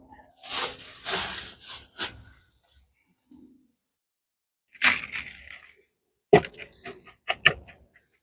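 Perlite and peat potting mix scooped and packed into a pot around a freshly dug yamadori tree, heard as a few close gritty rustling, crunching bursts separated by pauses, with sharp scraping clicks near the end.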